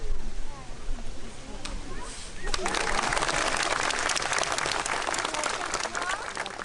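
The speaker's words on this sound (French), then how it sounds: "vous pouvez l'applaudir bien fort" Dense clapping from an audience breaks out about halfway through and holds steady, after a quieter opening with a few voices talking.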